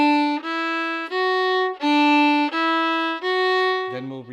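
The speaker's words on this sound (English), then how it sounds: "So now we're going to do forward scales, and they're going to be little scales, little 3-note scales," Solo fiddle plays short three-note forward scales in a lilting long-short-short waltz swing, bowed notes clear and close, a lower tone closing the phrase at the end.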